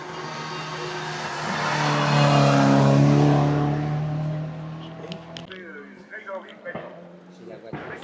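A race car at a hill climb in La Membrolle roars past, swelling and then fading away, with scattered clicks and voices in the background as it recedes.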